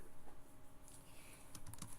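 Typing on a computer keyboard in a quiet room, soft clicks under a hum, then a quick burst of sharper keystrokes near the end, close and faint.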